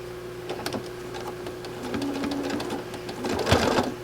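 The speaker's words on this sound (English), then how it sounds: "So now I'm going to sew. Starting at that dot." Close by, a sewing machine stitches a quilt pattern, its rapid steady chatter of needle strokes swelling louder toward the end, with no speech over it.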